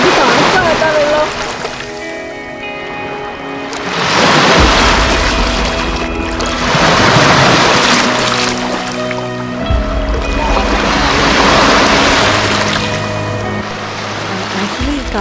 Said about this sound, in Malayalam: കടലിനെ പോലെ തോന്നിക്കുന്ന ഇത് ഒരു ലേക്കാണ്. കാനഡയിലെ വലിയ ലേക്സിൽ ഒരെണ്ണം, അതായത് ലേക്ക് ഇറി എന്നാണ് ഇതിൻ്റെ പേര്.